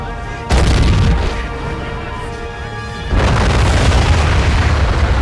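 Artillery fires with two heavy, booming blasts and rumbling explosions in the war game Men of War: Assault Squad 2 during a Seelow Heights battle, loud and close, with a low rumble between the blasts.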